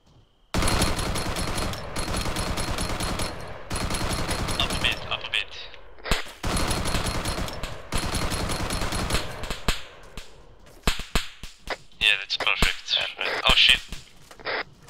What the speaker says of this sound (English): MMG's suppressing them pretty heavily.